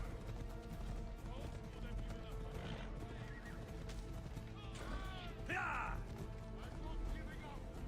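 Horse in the open-world game Assassin's Creed Odyssey, whinnying and neighing amid game sounds and clip-clopping hooves, with someone talking over it.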